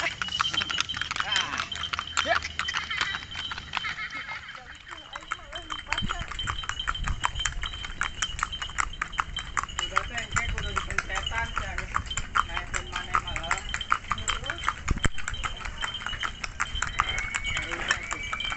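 Horse hooves clip-clop in a quick, regular rhythm while being ridden, a steady patter of hoofbeats running throughout with people talking over it.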